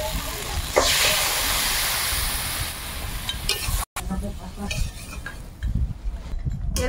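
Water poured into a pot of crab and potato curry on the stove sets off a loud, steady steam hiss and sizzle, broken by a brief dropout near the middle, then settling into quieter bubbling with a few clinks of a utensil.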